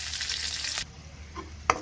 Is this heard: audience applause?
no